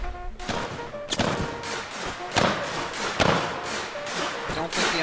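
Artillery cannons firing in the video game Mount & Blade: Warband, a series of heavy booming thuds about once a second, loud and close, with battle noise filling the gaps.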